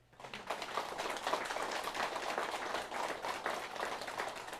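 A congregation at a Saturday charismatic prayer Mass in a Catholic church breaks into applause, a dense patter of many hands that swells quickly and holds steady at a moderate distance.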